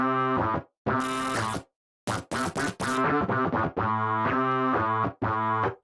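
A filtered, distorted synth sound made in Cubase 10 plays in a run of short, choppy bursts with gritty, harmonically rich tones, broken by brief gaps and a few sharp stabs, with no talking.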